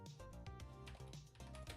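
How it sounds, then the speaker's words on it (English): Keys on a computer keyboard clack in quick, uneven succession, close and faint, with no talking. "I'm not good typing with my pinky."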